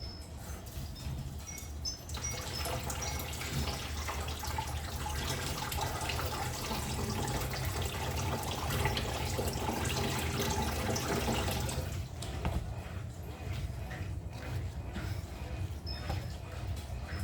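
Water trickles and drips steadily from freshly watered potted plants, a continuous soft splashing that fades near the end, with faint talk in the background.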